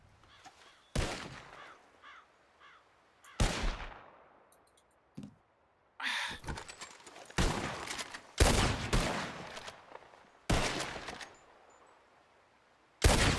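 Loud, sharp gunshots in Red Dead Redemption 2, spaced a second or two apart with some quick doubled shots and ringing tails, clear against quiet ambience.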